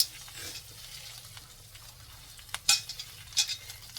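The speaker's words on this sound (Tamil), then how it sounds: "இப்போ நான் இந்த கருவேப்பிலையை உள்ளே போட்டுறேன். இது எண்ணெயில் நல்லா அப்படியே கோட்டாகி வர மாதிரி பார்த்துக்கலாம்." Curry leaves frying in oil for curry leaf powder, a faint, low hiss of sizzling with a couple of sharp utensil clinks near the end, quiet and close.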